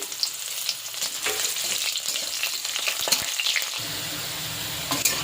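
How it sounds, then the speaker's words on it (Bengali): Chopped onion frying in hot oil with whole spices (shahi jeera, black pepper, cinnamon, cardamom, cloves) for chicken malai kofta: a steady close sizzle and crackle broken by stirring scrapes and clinks. "এইবারে দিয়ে দেবো অল্প পেঁয়াজ কুচি"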